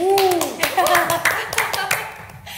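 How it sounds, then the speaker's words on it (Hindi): Studio audience at a Hindi music talk show gives a loud burst of hand clapping, with a voice and a melodic tone sounding over the start before the claps thin out toward the end. "इन दोनों के लिए भी एक बार जोरदार तालियां गाएं।"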